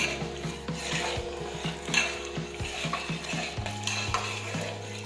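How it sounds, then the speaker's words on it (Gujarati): Vegetables for pav bhaji sautéed and stirred in a pan with spices, a steady frying sizzle under repeated scraping and clinking of a spoon against metal, close and continuous. "હવે આપણે સાતળી લઈશું."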